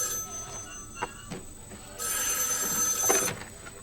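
A home telephone rings twice over a noisy background, with a bright electronic trill lasting more than a second each time and a faint hiss of room sound in between.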